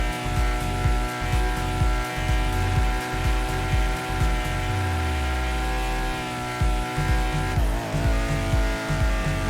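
A Honda S2000 engine in GTA 5 drones with a steady, pulsing rev, punctuated by repeated whooshing bursts and a brief lower swoop midway.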